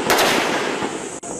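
A couple of sharp gunshot reports crack in quick succession, each trailing into a loud rumbling tail, close and unaccompanied by voices.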